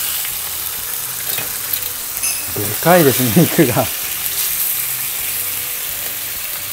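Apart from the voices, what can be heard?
beef shoulder loin steak searing in olive oil in pan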